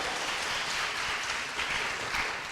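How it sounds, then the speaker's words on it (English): Sustained applause from an audience at a 150th anniversary alumni reunion awards ceremony, a thick, even roar of many clapping hands that holds steady for the whole stretch without talk. "We're going to clap again anyway."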